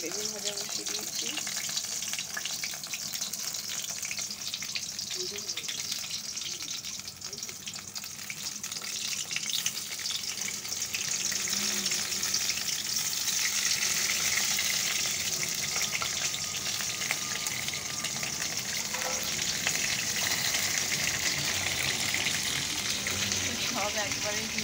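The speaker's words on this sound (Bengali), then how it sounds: "আমি যে বেগুন ভাজা বসিয়ে দিয়েছি।" Eggplant slices fry in a pan with a steady oily sizzle and crackle that grows slightly louder midway and continues throughout, with occasional faint kitchen clinks.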